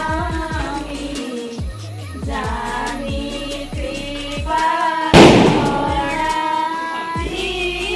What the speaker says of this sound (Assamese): আমাৰ পোৱালীকেইটাই ফটকা ফুটাই আছোঁ